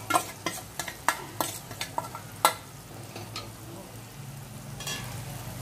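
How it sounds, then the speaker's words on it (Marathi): Marinated chicken with ginger-garlic paste, turmeric and spices is stirred and fried in a mud pot, a spoon scraping in quick irregular strokes over a soft, steady sizzle. "छान परतून घ्यायचं आहे आपल्याला, हे पूर्ण मसाला कोट होईपर्यंत आपल्याला हे परतून घ्यायचं आहे।"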